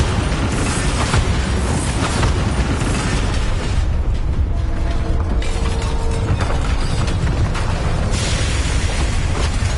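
A Bombarda spell explosion in the video game Hogwarts Legacy, a loud, sustained, rumbling blast with crackling debris and bursts filling the whole stretch, dense and close, with no voices.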